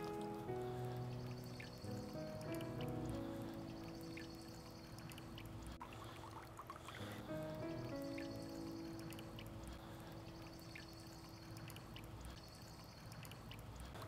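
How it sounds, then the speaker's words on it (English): Water flowing and pouring steadily in a garden pond setting with water lettuce, a continuous soothing trickle and splash close by, heard alone without talk. "I just love the soothing sound from the flowing water here."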